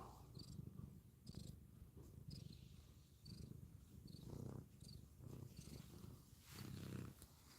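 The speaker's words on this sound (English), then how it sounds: "She's just purring away." A cat purring steadily close to the microphone, a low rumbling rhythm of repeated breaths with a faint high chirping of insects in the background.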